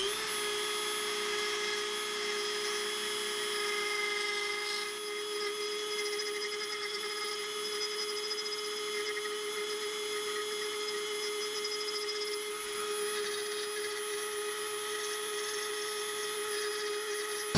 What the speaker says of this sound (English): This is a rather large circular burr bit that I'll use.